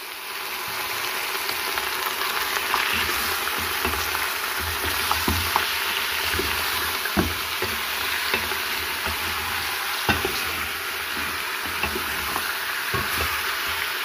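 Beef pieces sizzling and frying in a karahi for beef karahi, a steady close hiss of hot oil broken by occasional stirring clicks and scrapes, with no talking.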